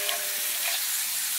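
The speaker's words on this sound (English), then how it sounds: "cooking these in coconut oil, they're getting done" Eggs and beans frying in coconut oil in a pan over a campfire, a steady close hissing sizzle that holds throughout without talking.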